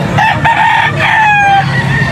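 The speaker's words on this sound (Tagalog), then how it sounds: "So are you buying chickens here?" A rooster crows loudly close by while chickens cluck around it at a pet market in Angeles, a short burst of poultry noise.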